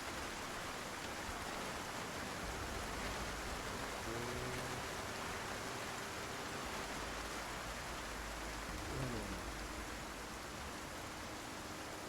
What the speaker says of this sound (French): peut-être que la pluie elle va commencer à s'arrêter quoi.